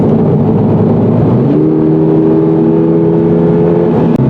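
A 2022 Toyota GR86 2.4-liter engine drones loudly and close, its pitch stepping up partway through as it revs harder, a steady sustained roar throughout.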